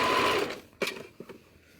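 Sewing machine topstitching a fabric tea bag, a short fast whirring run that stops, followed by a few light clicks and taps as the work is handled.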